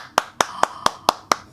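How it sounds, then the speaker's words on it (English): Seven sharp hand claps arrive at a steady, even pace, each one crisp and close, with nothing sounding in the short pauses between them. "Let's clap together."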